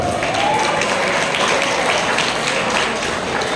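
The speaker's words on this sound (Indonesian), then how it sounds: "Tepuk tangan sekali lagi." Applause from a school audience at an Isra Mi'raj religious lecture in South Jakarta, a steady, even wash of many hands clapping with no break.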